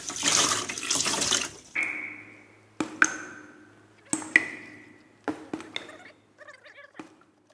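Water squeezed from a sponge into a bucket during a leaky-toilet repair, starting with a brief watery splash, then intermittent drips and trickles with small pings, close and fairly quiet.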